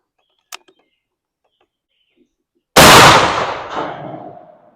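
A 12 gauge shotgun fires a single Federal Truball slug at an outdoor range: one sudden loud blast with a long rolling decay and echo, preceded by a faint small click and near silence.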